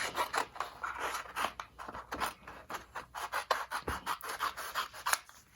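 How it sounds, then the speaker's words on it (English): Cardstock being trimmed with scissors for a handmade autumn thank-you card, a close run of rhythmic snipping and rasping cuts, steady and fairly loud with no talking. "I'm just going to trim this part off."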